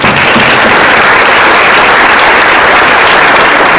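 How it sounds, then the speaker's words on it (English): Loud, dense applause from an audience thanking a panel, a continuous wash of many hands clapping close by, with no voices over it. "Round of applause."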